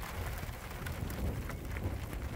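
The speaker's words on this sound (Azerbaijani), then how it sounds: "Yağış süzür aşağıya doğru." Steady rain pattering on surfaces during a gathering storm in the hills of Lachin, a dense even wash of drops close by with no voices.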